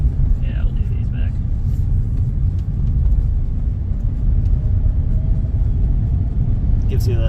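A Tesla Cybertruck drives at speed across the Bonneville Salt Flats, giving a steady, loud low rumble of road and wind noise throughout, with people talking briefly over it.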